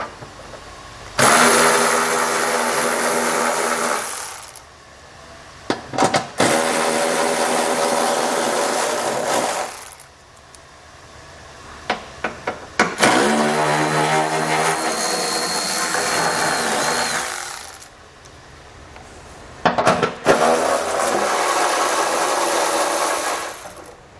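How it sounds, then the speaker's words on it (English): A power tool removes five 10mm heat shield fasteners on a 2020 Ford Explorer, running in four loud, close bursts of several seconds each with short pauses between them and no talking. "So these are going to be held in place by 5 10mm fasteners like this. So we'll go ahead and pull all those out."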